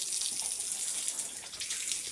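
Water pours and splashes steadily and close by as pigs are bathed on a hot day, a continuous rushing gush with no voices.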